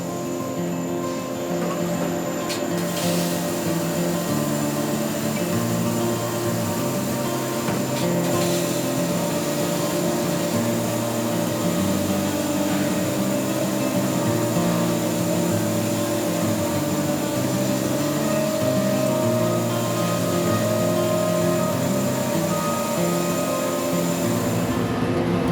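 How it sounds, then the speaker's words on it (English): A machine milling an end arm from solid blocks of aluminum, a steady loud mechanical drone with sustained tonal whine and layered hum, continuous and unchanging throughout. "we move on to machining the end arm, which gets milled out of solid blocks of aluminum"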